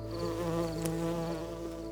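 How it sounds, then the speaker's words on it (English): Honeybees buzz in a faint, steady, droning hum that holds the same pitch, as if a few are flying close by, with no voices. "even honeybees might fly back to their hives"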